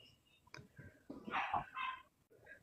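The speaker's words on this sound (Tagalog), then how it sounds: "Kahol ng kahol." A dog barks several times in short bursts, fairly near, with some whimpery, breathy yelps between the barks and no speech over them.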